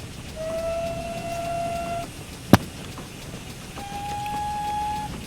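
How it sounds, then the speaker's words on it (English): A looped steam locomotive whistle in the Train Sim video game, a Great Western tank engine, sounds in two long sustained blasts separated by a sharp click, over a steady background of running and rail noise. "the Great Western Loop whistles are probably the best whistles in train sim at the moment"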